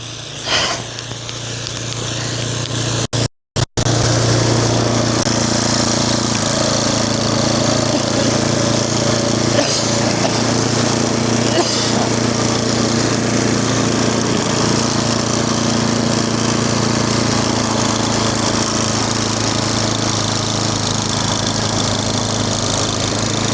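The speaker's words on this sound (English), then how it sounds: "let's snow blow the driveway some more" A snowblower engine drones loudly and steadily while clearing a snowy driveway during a snowstorm, with a brief cut near the start and a constant churning rasp throughout.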